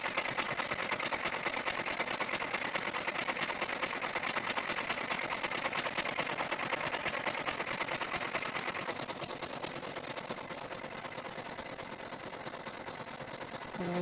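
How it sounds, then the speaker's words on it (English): An embroidery machine runs steadily through satin stitching, its rapid needle ticking forming a continuous close mechanical drone that eases slightly in pitch partway through, with no talk over it. "We are almost finished with the satin stitching."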